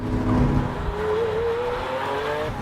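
A 2016 Lamborghini Aventador Roadster LP700 V12 roars up close on a road test, its engine note climbing and holding loud and continuous as the car accelerates.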